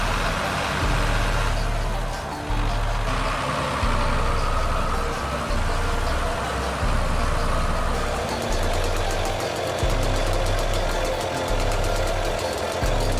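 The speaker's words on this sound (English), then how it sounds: "The engine roared violently, the wheels spun in the deep mud" A Belarus MTZ-82 tractor stuck in deep mud, wheels spinning, roars continuously and loudly nearby, its heavy diesel engine rumbling and knocking without letup and with no talk.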